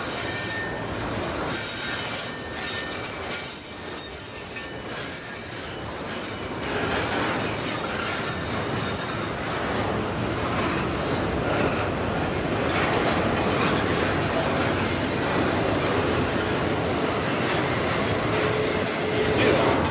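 A long southbound freight train rumbles past close by in Emeryville, wheels squealing in high sustained shrieks over continuous rolling clatter.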